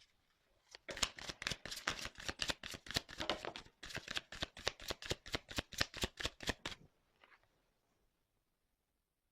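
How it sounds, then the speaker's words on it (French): Deck of cards shuffled for a tarot-style reading: a rapid run of crisp riffling bursts, close and fairly loud, with one short pause midway, then quiet after about seven seconds. "Donc, je vais prendre les cartes là."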